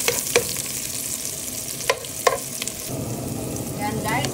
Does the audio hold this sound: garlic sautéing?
yes